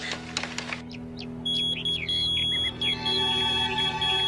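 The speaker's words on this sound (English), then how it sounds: "He left his beeper here." Steady electronic beeping from a pager left behind, a repeating high tone sounding loud and close in a quiet room, with a brief clatter just before it starts.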